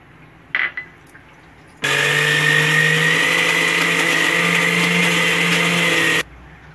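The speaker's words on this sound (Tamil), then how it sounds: "சட்னி அரைச்சாச்சு." Electric mixer grinder whirring loudly and steadily for several seconds while grinding coconut, roasted gram and mint into chutney, starting and stopping abruptly after a few faint clinks.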